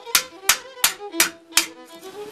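A craftsman's hammer striking metal in a steady rhythm, five sharp ringing blows about a third of a second apart, each with a brief metallic resonance, close and loud.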